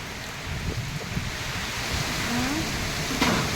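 Typhoon Nica, a signal #4 storm, blows a steady roar of wind-driven rain and gusting air outdoors in the provinces. The sound is dense and continuous, with no clear breaks.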